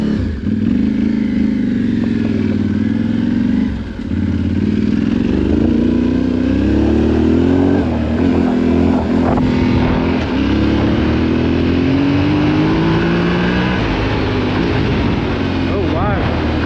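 A Yamaha Tenere 700 adventure motorcycle being ridden, its engine droning steadily with shifting pitch as it revs and climbs, loud and close throughout with wind rush.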